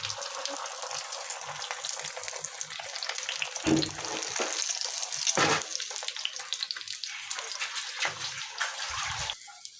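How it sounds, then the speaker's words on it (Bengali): Two eggs sizzling together in a hot pan, a steady frying crackle with a few louder bursts and scraping moments, close and alone without talk. "এখন হয়েছে ডিম 2টা এখানে দিছি, দুটোটা একসাথে ভেজে নেব।"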